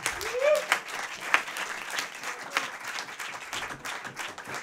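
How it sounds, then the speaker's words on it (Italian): An audience claps for a band after a song at a small live music set, a modest scattered round of applause with a few sharper claps and a faint whistle, quieter toward the end. "Un grande applauso."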